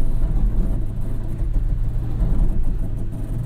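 2022 Toyota Tacoma TRD Pro pulling away gently on light throttle, a loud, close, steady low engine rumble with no talk over it.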